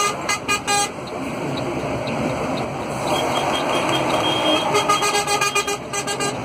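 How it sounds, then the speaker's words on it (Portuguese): Several truck horns honk in short bursts during a truckers' convoy on a Curitiba ring road, over steady road and engine noise, fairly close, with traffic rumbling throughout. "Pessoal buzinando ali, ó."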